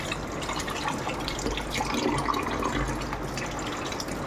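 Cleaned sardines being rinsed by hand in water, with steady splashing and trickling close by, no talk.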